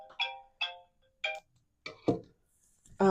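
A phone set to silent rings anyway, giving a series of short, bright chime bursts that repeat at uneven intervals, fairly close and moderately loud.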